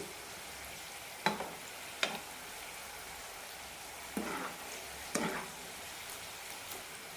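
Chickpeas deep-frying in oil, giving a soft, even bubbling hiss throughout, broken by four or five sharp scraping strokes as they are stirred in the pan.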